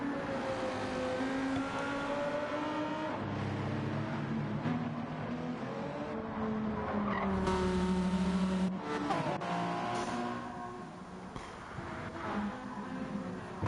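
A hypercar-era race car in an endurance racing video game at the Nürburgring GP circuit spins under braking into turn 1, engine revving and shifting through rising and falling tones, with tire squeal and other cars passing close by.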